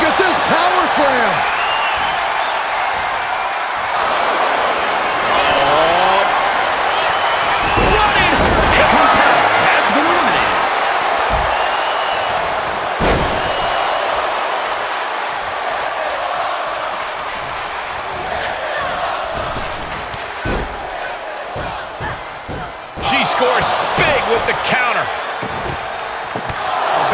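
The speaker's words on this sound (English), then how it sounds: "Look at this power slam." A power slam in the WWE 2K23 wrestling video game, during a women's fatal four-way tables match, lands with a heavy impact over a loud, roaring arena crowd, with commentators talking over the noise.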